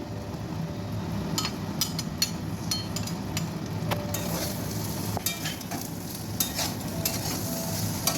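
Ginger paste, tender vegetable stems and peas stirred and fried in a pan for milk shukto: a steady close sizzle with repeated sharp scrapes and taps of a spatula against the pan.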